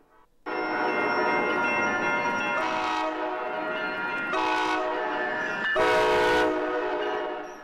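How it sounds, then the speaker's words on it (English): Train horns blare in a downtown area, a long sustained loud horn chord that shifts in intensity with a few stronger pulses before fading, with no talking. "because of those constant train horns you hear"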